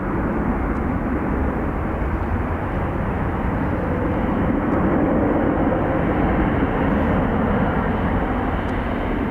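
A Ryanair airliner taxiing and lining up on the runway at Dublin Airport produces a loud, unbroken jet-engine roar that stays steady throughout.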